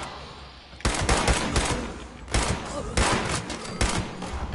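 Gunfire in the video game Fallout 76, with rapid bursts of shots cracking out in quick clusters after a brief quieter lead-in, loud and close.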